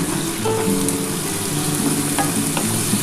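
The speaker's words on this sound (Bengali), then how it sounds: "এবার ভালো করে পেঁয়াজটা ভেজে নিতে হবে" Onions frying and being stirred in a pan with a pinch of sugar for a spicy Bombay duck fish curry, a loud, close, steady sizzle with soft scraping stir strokes throughout and no talk.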